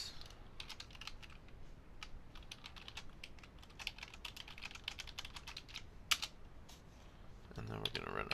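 Quick, light typing on a computer keyboard, irregular bursts of key clicks at close range with a few louder taps, while someone speaks quietly in the background.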